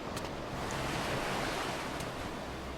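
Ocean waves wash steadily in a video game, a broad continuous surf rush with a windy edge and no talk over it.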